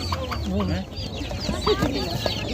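Chickens cluck and squawk close by at a poultry market in Pitnak, Khorezm, Uzbekistan, their short calls scattered over a murmur of people talking.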